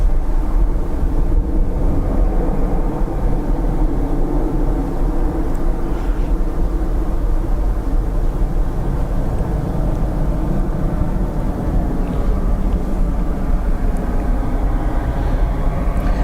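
An Air France Airbus A220 and an ATR turboprop taxi at Dublin Airport, a steady low engine rumble held at an even loudness throughout, with a faint whine above it.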